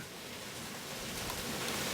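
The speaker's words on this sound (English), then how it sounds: "If you hear this sizzling in the background, that's because I'm frying okra." Steady, faint crackling hiss of okra sizzling in a frying pan, continuous and even throughout with no voices.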